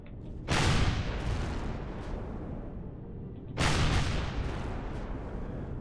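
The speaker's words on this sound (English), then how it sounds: "that one is firing homing rockets" Homing rockets firing during a base attack in the Empyrion space survival game, two heavy booming launches a few seconds apart, each with a long rumbling roar that trails off, no voices.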